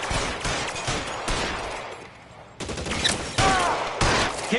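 Gunfire in LA Noire: bursts of rapid shots in quick succession, a brief lull in the middle, then more sharp, loud volleys with ricochet whines near the end.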